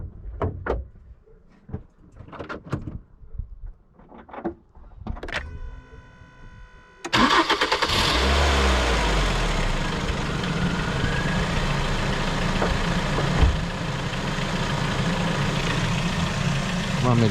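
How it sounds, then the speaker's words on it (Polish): A 2009 Ford Focus 1.8 Duratec flexifuel engine cranks and catches after a few seconds of quiet clicks and handling noises, then settles into a steady, smooth idle that carries on close and even. "Zapalimy, zobaczymy jak on chodzi."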